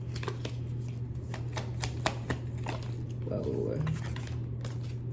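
Tarot cards being shuffled and pulled, a run of quick, crisp riffling clicks and slaps close to the microphone, with a brief spoken exclamation partway through.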